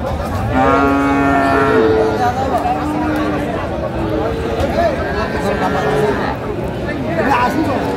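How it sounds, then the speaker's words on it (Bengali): Cattle at a bull market in Manikganj moo repeatedly, several drawn-out calls overlapping near and far, over a steady crowd hubbub of people talking. "সুন্দর একটি গরু আমরা দেখছিলাম।"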